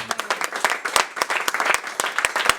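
A church congregation claps and applauds together, a dense, fast patter of many hands up close that keeps going without a break.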